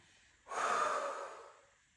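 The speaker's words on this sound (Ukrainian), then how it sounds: "Видихаємо." A single slow, airy exhale during an exercise routine rises sharply, holds for about a second, then fades gently. It is close and soft, with nothing else around it.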